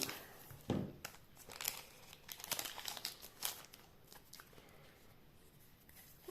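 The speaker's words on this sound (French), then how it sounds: "je vais essayer d'ouvrir ce booster proprement" A Japanese One Piece card game booster pack from the Kingdoms of Intrigue set is cut open, giving close, quiet crinkling and rustling of foil wrapper and scattered snips and handling noises with no voices.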